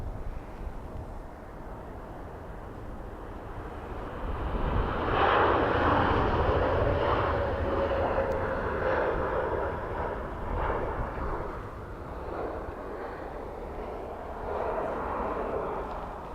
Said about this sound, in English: Turkish taxiing out to the north runway.